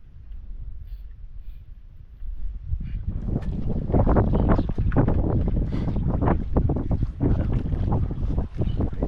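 Strong northeast monsoon wind buffets a small boat at sea, a loud rumbling gusty roar of wind against the microphone that swells after a quieter start and keeps blowing without talking.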